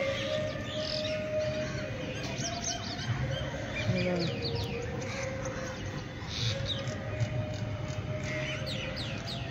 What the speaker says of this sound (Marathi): हा पक्ष्यांचा किलबिलाट आणि कोकिळा पण किती सुंदर ओरडते एकीकडे